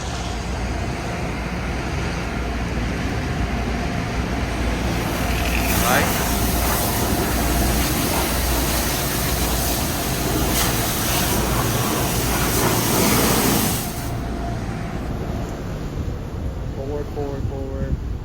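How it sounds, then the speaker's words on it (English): A Dodge Durango GT rental sits inside an Oasis Typhoon automatic car wash in San Antonio as heavy spray roars over it, with a loud, broad rushing wash lasting about nine seconds over a steady mechanical hum before easing back. "All right, go through the wash."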